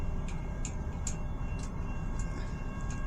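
A CN freight train rolls past a railroad crossing, a low steady rumble of wheels on track with a regular ticking clack of rail joints, moderately distant and continuous, without talk.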